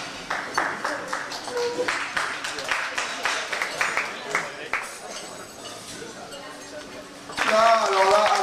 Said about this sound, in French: on peut vraiment applaudir parce que elle le mérite et ils le méritent tous et toutes